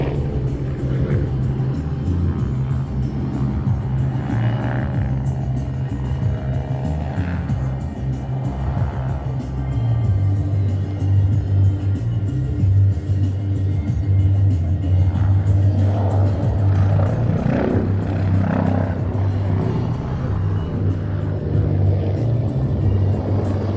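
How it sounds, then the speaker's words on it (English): A Bo 105 helicopter flying aerobatics at a live aviation show, heard as a loud, continuous low rumble of rotor and engine that swells slightly partway through and holds steady to the end. "Really is quite amazing what Felix is actually doing in this helicopter."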